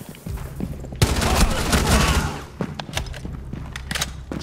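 Gunfire in Rainbow Six Siege: a close, loud burst of rapid shots for about a second and a half, then scattered single shots and thuds.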